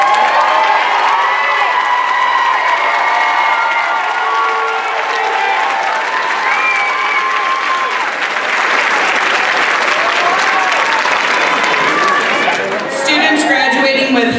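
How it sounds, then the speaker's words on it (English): Sustained applause from a commencement audience for graduating students, a dense, steady wash of clapping with some cheering and crowd voices mixed in, continuing evenly throughout. "receive recognition of applause for your outstanding achievement"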